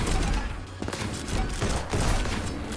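Rapid gunshots in the video game Neon White, a dense close burst of sharp cracks and booms running almost continuously, loud with no talk over it.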